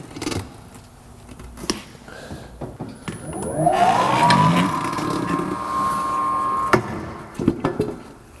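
On a Ranger R76RTF tire machine, a 20-inch tire spoon pries a tire's top bead off the rim while the machine turns with a rising mechanical whine, rubber scraping and metal knocks close by.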